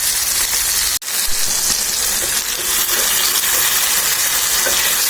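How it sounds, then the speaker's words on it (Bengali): Chopped tomatoes stirred and cooked in a hot pan give a steady, loud sizzling hiss with soft scraping, briefly broken by a sharp click near the start. "টমেটো কুচিগুলো দিয়ে কিছুক্ষণ এভাবে নেড়ে নিতে হবে যাতে টমেটোগুলো ভালোভাবে সিদ্ধ হয়ে যায়।"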